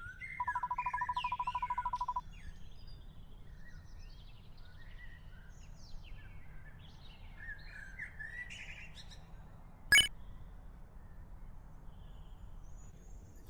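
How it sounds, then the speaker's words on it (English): Birds chirp in a quiet graveyard scene in the video game Deltarune Yellow, a rapid trilling call at first, then scattered faint tweets over a steady low ambient hum, with one brief sharp click partway through. "with only the sounds of the birds chirping"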